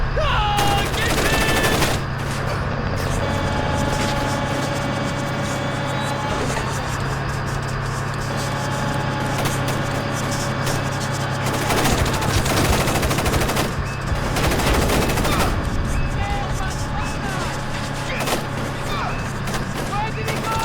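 Gunfire bursts crackle through a loud, dense firefight in the stealth video game Splinter Cell Chaos Theory, layered over a constant low hum and game noise for the whole stretch, with voices shouting now and then.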